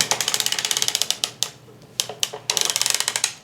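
Sock knitting machine cranking through its final row, a rapid run of sharp mechanical ratchet clicks in bursts with brief pauses, close and clear with no voices.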